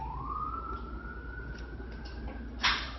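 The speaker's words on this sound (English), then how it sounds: "when you hear that siren" An emergency-vehicle siren wails in a single long rising and sustained tone over a low rumbling background, moderately loud, ending with a brief sharp burst of noise near the end; no one speaks.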